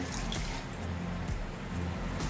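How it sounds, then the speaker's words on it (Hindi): Water is poured into a cooking pot to start chicken tandoori biryani, a steady, continuous trickling rush with a low background hum and no talking. "एक लीटर मैंने पानी डाल दिया है इसमें"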